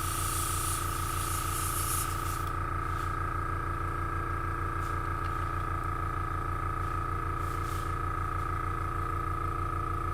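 An airbrush sprays paint in a hobby session, its hiss strongest at first and then thinning, over a loud steady hum and buzz from the compressor, with a few faint brief bursts later.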